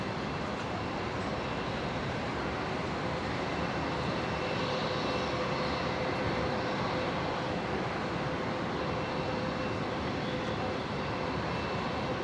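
Boeing 777 engines at Brisbane Airport as the jet lines up on the runway: a steady, distant broadband roar holds evenly for the whole stretch, with no voices over it.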